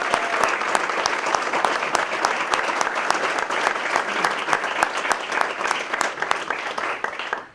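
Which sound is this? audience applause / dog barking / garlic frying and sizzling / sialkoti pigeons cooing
audience applause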